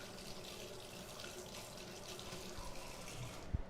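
Water from a tap runs steadily into a kitchen sink as a potato masher is rinsed, a soft continuous splashing that ends with a small clunk.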